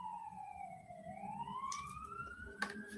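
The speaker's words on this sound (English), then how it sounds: "hear that siren?" A wailing siren sweeps down then climbs again, fairly faint and distant, with a brief clatter of noise near the end.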